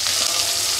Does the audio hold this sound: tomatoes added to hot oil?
yes